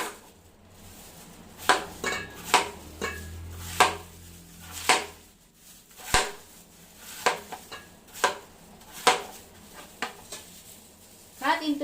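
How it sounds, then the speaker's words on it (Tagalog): Apples being cut for an apple cake, sharp irregular knocks of a knife against a board and dish, close and distinct, with some quiet handling sounds between strokes. "Now guys, we will cut the apples."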